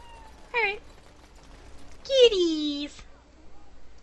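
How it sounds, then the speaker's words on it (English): Cats in Dragon Age: Origins give two clear meows, a short one and then a longer drawn-out cry, against a quiet background. "That's a lot of cats that have spawned."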